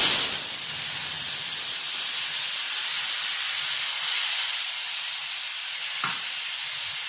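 Fish frying hard in a pan as spice paste goes in, giving a steady loud sizzle and hiss that holds throughout, with a brief clink near the end.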